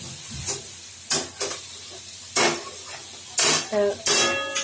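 Dal cooked with ridge gourd being stirred in a pan (kadai), giving several short scraping, clattering strokes spaced apart, close and fairly loud over a faint low background.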